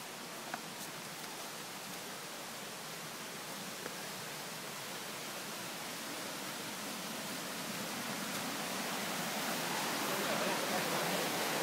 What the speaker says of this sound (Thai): ตรงนี้ก็มีจุดน้ำตกอีกนิดนึงครับเล็กน้อยสวยเหมือนกันเล็กๆ